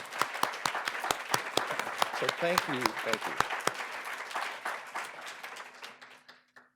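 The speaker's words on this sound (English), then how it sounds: "I just want to applaud you." An audience claps at a Picower Institute spring symposium, with dense, steady applause that thins out and fades toward the end while a voice speaks briefly over it.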